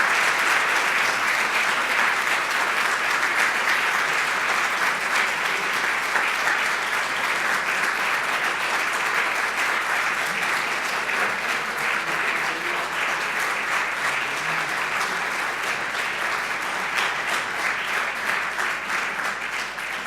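An audience at an eighth-anniversary celebration of the Centro de Sistemas Públicos gives award recipient Mario a long, dense round of clapping, sustained and even for about twenty seconds with no speech over it.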